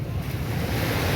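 Sea waves surge and wash steadily onto the beach at Nha Trang, Vietnam, a continuous broadband roar with low rumbling and some wind buffeting the microphone, with no voices.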